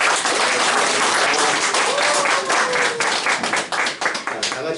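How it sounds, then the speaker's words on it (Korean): A church congregation at a Korean church's Sunday service in Rosario, Argentina applauds its high school teachers, the dense, steady clapping filling the room for nearly five seconds with a faint murmur of voices underneath. "우리 고등학교 선생님들 위해서 다시 한번 크게 박수 칩시다"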